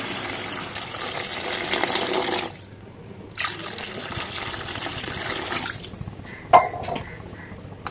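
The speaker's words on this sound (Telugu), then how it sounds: "తగినన్ని వాటర్ అయితే యాడ్ చేసుకోండి" Water gushes steadily into a pot for a couple of seconds, stops, then trickles briefly before a single light clink.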